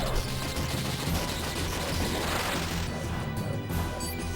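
An Electro Bolt spell attack in the video game Chrono Cross, cast in battle against Karsh, gives a loud, sustained electric crash with rattling, grinding mechanical texture.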